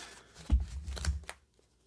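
Tea leaf cards being shuffled by hand, two quick soft riffling bursts close to the microphone, faint and alone before a short quiet pause.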